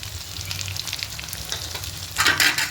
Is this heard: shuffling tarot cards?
no